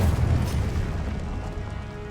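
Incendio fire spell blast in Hogwarts Legacy: a deep booming burst at the start, then a low rumbling, crackling roar that slowly settles.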